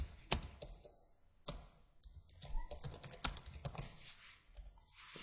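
Typing on a computer keyboard while writing a SQL select statement, with irregular close key clicks and a few sharper strikes, fairly quiet throughout.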